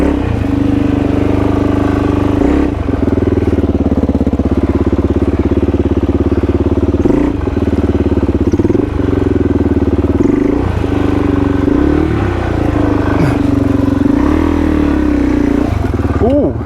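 Dirt motorbike climbing a steep, slippery trail near Sydney, its engine droning steadily and loud up close with repeated revs and throttle changes throughout.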